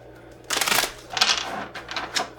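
Tarot cards are shuffled close by in quick riffling bursts, with a crisp flutter of paper repeating a few times.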